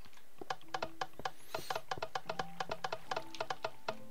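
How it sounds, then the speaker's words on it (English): Rapid, crisp keyboard clicking from a player at a computer, a steady run of close, distinct taps with brief pauses, fairly quiet and without talk. "I don't like all those clicking noises."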